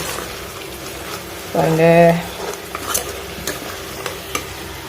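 Tomato kulambu bubbling in a pot, a steady low simmering hiss with a brief loud stir and bloop near the middle while someone talks over it.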